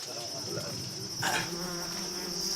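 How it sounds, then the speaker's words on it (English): A swarm of disturbed African bees buzzes outdoors in the Nigerian wild, a steady, high, droning hum with a brief swell in the middle, moderately quiet. "A hive of African bees has been disturbed by the hunting party, and now they're starting to swarm"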